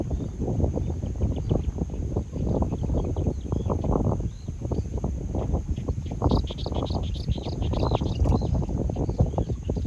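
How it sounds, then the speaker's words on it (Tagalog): Birds chirp and trill outdoors in repeated faint bursts, partly masked by loud wind or handling rumble and low background noise. "Naririnig yung mga huni ng mga ibon"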